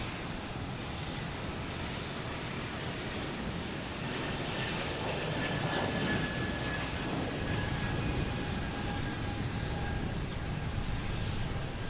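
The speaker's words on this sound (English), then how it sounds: "After this takeoff here" JetBlue airliner taking off from Boston Logan bound for Denver, a sustained broad engine roar with a faint whine, building slightly midway as it powers away, heard alone without talk.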